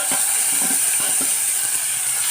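Tomato, shallots, green chilli and curry leaves sauté in hot oil for a fish soup, giving a continuous close hiss and sizzle with a few soft stirring knocks underneath.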